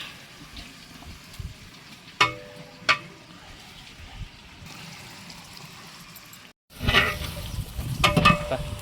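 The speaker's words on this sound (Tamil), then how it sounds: "போட்டு இப்போ வதக்கிட்டு கறி எடுத்து போடணும்" Spices and a lemon-yogurt mix sauté in a large pot for a 40-person mutton biryani: soft sizzling with a couple of sharp clanks, a brief hush, then louder frying and stirring noise.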